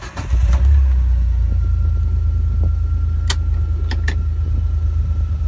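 Kawasaki Mule Pro FX utility vehicle engine runs close and loud with a steady low rumble throughout, with a few faint clicks and rattles over it.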